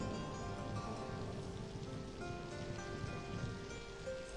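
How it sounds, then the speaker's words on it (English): Monsoon rain falls on a Borneo rainforest, a steady, dense hiss of raindrops on leaves and surfaces, continuous and moderately faint with no voices. "Then it never stops raining, which is unbearable even for an orangutan."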